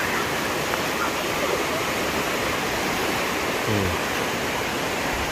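Fast-flowing river water at Sungai Kenerong in Dabong, Kelantan, rushing in a steady, dense roar that fills the whole clip without a break, close and loud, with no voices over it.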